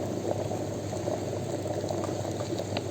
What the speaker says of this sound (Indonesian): kenapa kita menggunakan air mendidih?